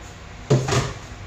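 A single short clunk of a pressure cooker's metal lid being pressed shut, close and fairly loud, with a faint rattle afterward over low background hiss.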